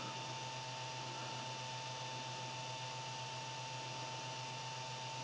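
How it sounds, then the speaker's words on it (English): A 3D printer's stock cooling fan on an Ender 5 whirs steadily with a constant tonal hum and a faint airy hiss, unchanging throughout, at about 42 decibels. "here we are with the default fan that comes with the printer"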